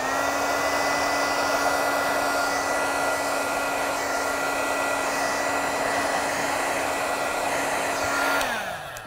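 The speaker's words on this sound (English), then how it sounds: "how to do this with a heat gun" A Wagner heat gun blows hot air over Frixion pen lines with a continuous, loud whirring fan hiss and a steady motor hum that runs unbroken, then winds down at the end as it is switched off.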